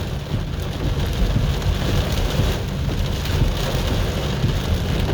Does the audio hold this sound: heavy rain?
yes